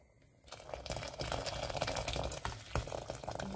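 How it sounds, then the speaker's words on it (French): Hot water poured into a pot of Malagasy chicken romazava, a steady liquid splashing and bubbling rush starting after a brief silence and continuing loud and close throughout. "je mets de l'eau chaude"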